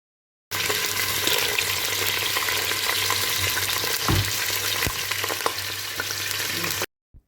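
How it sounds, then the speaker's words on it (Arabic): Chicken frying with onion in oil, with a couple of cinnamon sticks in the pan, for a couscous with tfaya: a steady, loud sizzle runs throughout, broken by one dull knock of a stirring utensil midway. "باش يتقلى الدجاج مع البصلة ديالنا والزيت"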